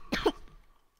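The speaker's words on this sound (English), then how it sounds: "I don't care that I'm coughing." A single close, sharp cough bursts out and quickly fades, followed by quiet.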